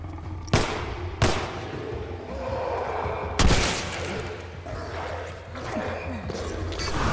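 Gunfire from the video game The Last of Us rings out as three sharp, loud shots spaced a second or two apart, each with a quick decay, over a rumbling in-game background.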